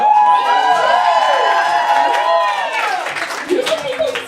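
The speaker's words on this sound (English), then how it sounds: "That's the first time I've gotten applause." An audience at a stand-up comedy show cheers and whoops loudly, with clapping and shouts mixed in, before the noise thins out toward the end.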